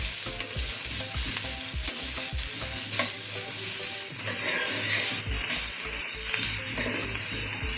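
Shredded cabbage sambharo being stirred in a hot pan: a loud, close sizzle broken by repeated rhythmic scraping strokes of the spoon throughout.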